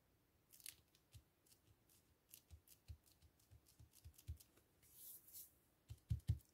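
Scissors snipping through thick paper for a junk journal craft, a series of close, crisp cuts at an irregular pace with no talking.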